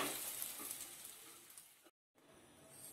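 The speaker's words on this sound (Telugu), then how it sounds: "ఈ ఫ్రై పట్టే విధంగా ఒకసారి కలుపుకోవాలి" Egg fried rice is stir-fried in a hot pan, giving a steady close hiss and sizzle. The sizzle cuts out briefly, then resumes.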